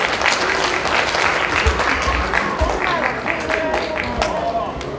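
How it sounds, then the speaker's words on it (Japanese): Audience applause for a basketball player acting as one-day director at an aquarium, as a final fish species is added to a tank; steady, dense clapping fills the full stretch, with a voice talking over it. "皆様拍手をお願いいたします。"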